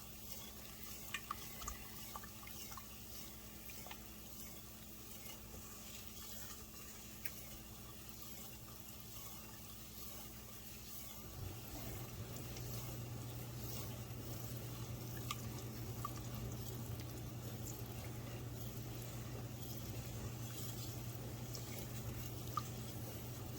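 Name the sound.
stirring and scraping gumbo roux in a pan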